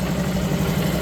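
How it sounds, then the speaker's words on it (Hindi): Rebuilt Honda CB Shine 125cc motorcycle engine idling steadily and smoothly after a fresh half-engine rebuild with new oil and spark plug, a constant close hum with no talk. "बाइक को हमने स्टार्ट भी कर लिया, इंजन का साउंड भी मस्त मोला मक्खन आ रहा है।"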